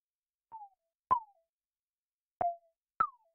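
Four short plucky synth blips from a second Ableton Operator layer, each with a quick downward pitch sweep from an LFO-modulated pitch envelope, sounding in an uneven pattern with silent gaps between them.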